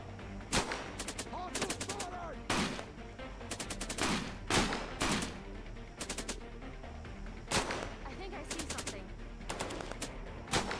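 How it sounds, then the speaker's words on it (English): Machine gun turret fire in the Cepheus Protocol battle game, quiet bursts of rapid gunshots recurring irregularly alongside distant single shots, with faint voices underneath. "Defense team, engineer, build me another MG turret"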